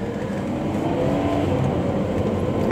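A Ferrari 599 GTB Fiorano engine gives a steady, smooth drone with a slight rising whir, heard continuously and close with no speech over it.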